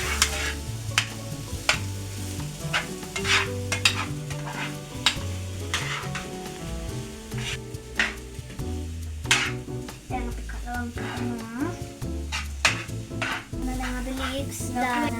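Cooked rice and carrots are stir-fried in a pan for Sri Lankan mixed rice, a soft sizzle broken by repeated scraping stirs, heard under prominent background music.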